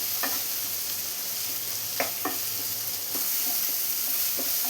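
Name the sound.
chopped tomato being sautéed in a pan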